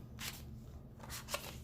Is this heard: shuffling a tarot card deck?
yes